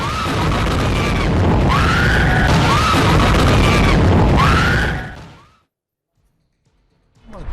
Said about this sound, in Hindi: मिसाइल धमाकों से दहल गया इजराइल